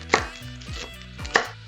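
A knife cuts the ends off whole garlic bulbs on a cutting board, with two sharp, close chops about a second apart and softer knife sounds between them.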